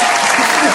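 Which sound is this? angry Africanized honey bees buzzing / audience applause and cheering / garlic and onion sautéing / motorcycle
audience applause and cheering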